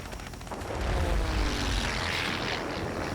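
Aircraft guns fire at an enemy Spitfire in the World of Warplanes video game, a dense, continuous rattle of gunfire over a droning propeller engine, loud and close throughout.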